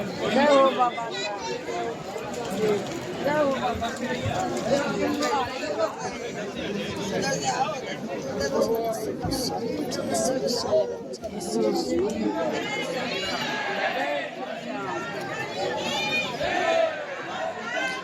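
A dense crowd of pilgrims at the Khatu Shyam temple in Rajasthan fills the air with steady, close chatter and babble that runs unbroken throughout, with no single voice standing out.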